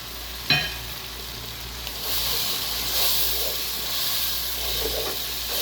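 Tomato dropped into hot frying masala for bhindi fry, a brief thud followed by steady loud sizzling and hissing, close by with no talk.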